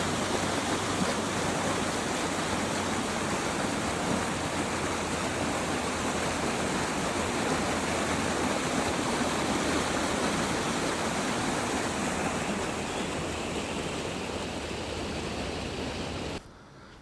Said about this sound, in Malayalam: ഇവിടുന്ന് ചെറിയൊരു അരുവിയുണ്ട്.